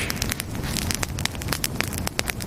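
Steady rushing wind buffets throughout, with crackling, gusty bursts scattered over a constant roar; no voices.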